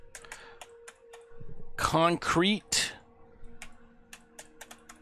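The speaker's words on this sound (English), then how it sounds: "This time we are going to be typing out" Computer keyboard typing while playing Empyrion Galactic, a burst of key clicks running under a voice, with scattered taps continuing before and after the speech.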